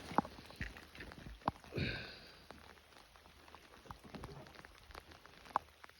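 Heavy rain falls steadily on a wet, miserable evening at a shore fishing spot in Norway, a faint continuous patter with occasional louder drops close by and no talk.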